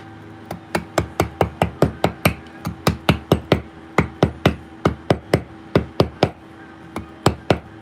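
A hammer strikes again and again in a stone workshop, each blow a dull, solid knock, close and loud, in a steady quick rhythm with brief pauses.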